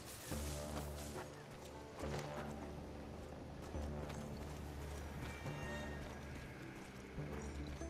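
Steady clip-clop of horse hooves at a trot in the video game Evil West, mixed with ambient game sound effects and a faint voice in the background.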